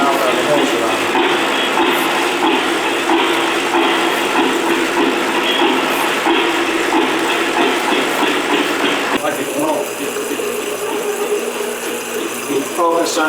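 Old oil well pump engines run at the Penn-Brad Oil Museum in Bradford, Pennsylvania, a loud continuous mechanical clatter and chugging drone that persists throughout, with a shift in tone partway through.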